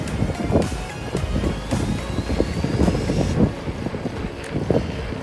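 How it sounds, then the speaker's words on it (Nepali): Wind gusts at Deurali during a cycling trip in Nepal, buffeting the microphone in irregular, rumbling surges that rise and fall over a few seconds. "देउरालीमा बतास चल्यो, बतास चल्यो, बतास चल्यो।"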